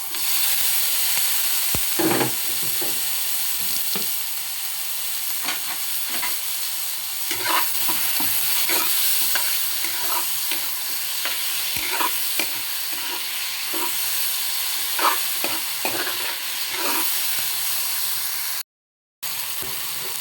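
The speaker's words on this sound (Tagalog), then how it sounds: "Lagay ang kamatis." Tomatoes fry in a pan with plenty of onions and are stirred, giving a steady, loud hissing sizzle with scattered scraping and tapping from the utensil and a brief cut to silence near the end, with no voices.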